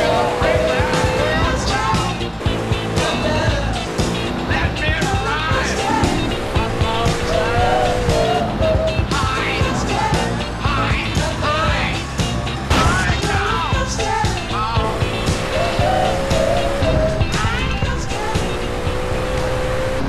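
Car being driven in GTA San Andreas, a constant engine drone with repeated tire squeals and skids, mixed with game music and chatter throughout.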